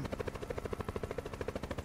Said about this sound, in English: But don't drop the fucking chopper.